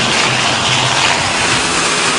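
ATR propeller airliner approaching the runway to land at Ziguinchor, a loud continuous broadband engine and propeller roar that holds steady throughout, with no speech.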